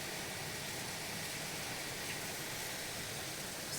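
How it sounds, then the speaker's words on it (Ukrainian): Steady heavy rain pours down in a dense, hissing wash of noise, even and unbroken throughout. "все стіною. Дощ стіною."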